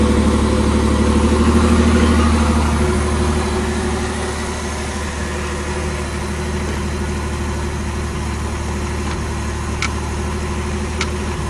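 A Pontiac Fiero V6 with about 130,000 km on it idles steadily close to the microphone, and its low, even hum eases down slightly after the first few seconds.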